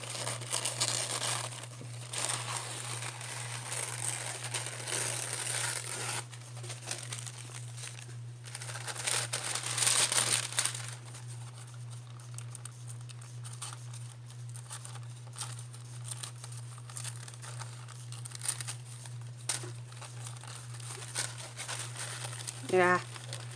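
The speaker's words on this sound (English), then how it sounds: "Now I'm going to try to rush this along and tear my napkin off before it's dry." A paper napkin being torn off a dictionary craft page gives soft crinkling and a brief rustling tear, faint over a constant low electrical hum.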